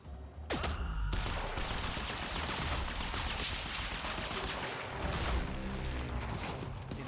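Sniper gunfire rings out in the video game Quantum Break as a dense, sustained barrage of shots and crashing impacts, loud and continuous, with rapid bursts throughout.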